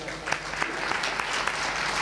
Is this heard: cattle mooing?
no